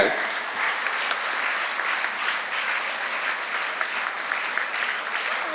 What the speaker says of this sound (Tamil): ஒரு உற்சாக கரகோஷத்தை எழுப்புங்க